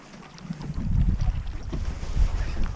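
Wind gusts over an open lake during kayak bass fishing, a low rumbling buffet that swells and fades near the microphone, with no voices.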